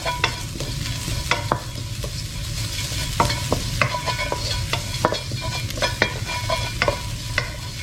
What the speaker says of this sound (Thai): เราก็มาลงเป็น พริกขี้หนูนะฮะ ความเผ็ดตามไปชอบนะครับคั่วซ้ำนิดนึงนะฮะ